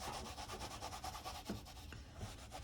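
Towel rubbing spilled Payne's Gray paint into a recycled canvas, a steady close scrubbing swish in rapid back-and-forth strokes throughout, with no talk.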